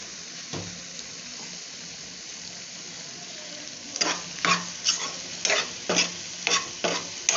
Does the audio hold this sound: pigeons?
no